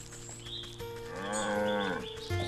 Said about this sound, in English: Hey cow!